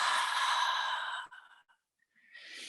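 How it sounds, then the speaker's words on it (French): A single long exhale through the mouth during yoga sun salutation breathing, close and clear, tapering off into a brief pause before a softer breath resumes. "une inspire par le nez, une expire par la bouche"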